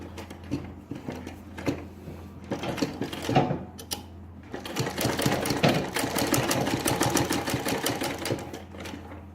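A sewing machine runs in bursts while stitching a kurti, the needle's rapid clatter starting and stopping in short runs before settling into a longer, steady stretch of stitching, close and fairly loud.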